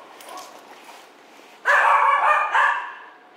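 A small dog barks close by during an obedience training session, a quick burst of two or three sharp barks after a quiet stretch of faint background noise.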